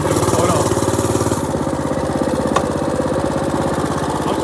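A mini bike engine idles steadily and loudly up close, a constant low mechanical chug and rumble with a brief click partway through and no talking.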